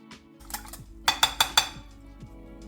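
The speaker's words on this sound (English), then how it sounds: "Now we're going to give everything a good beating." A whisk beats milk, eggs and double cream for custard in a bowl, giving a quick series of sharp metallic clinks and taps against the bowl in a short burst, close and clear with nothing else over it.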